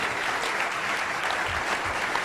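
A National Press Club luncheon crowd claps for the speaker, sustained thick applause from many people filling the room evenly, with no voices over it.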